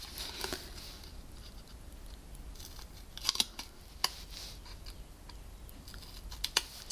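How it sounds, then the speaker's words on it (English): Scissors snip into scored paper to cut small tabs for a basket, a run of quiet, sharp clicks and snips scattered irregularly over a soft background rustle, close and alone without speech. "Then I'm going to cut in between the segments to create little tabs."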